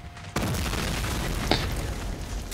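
A Panzerschreck bazooka destroying a cannon in the Medal of Honor Allied Assault game, a sudden loud boom followed by a continuous rumbling blast with a brief sharper crack partway through.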